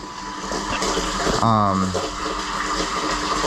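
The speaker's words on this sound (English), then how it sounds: "this little motor is just pumping water into here." Continuous rushing gush of water driven by a small pump, steady and close, with a short voiced sound briefly rising over it.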